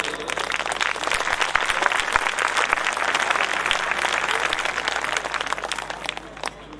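An audience at a religious discourse applauds, dense hand clapping from many people sustained at an even, loud level throughout, with a voice faintly beneath it.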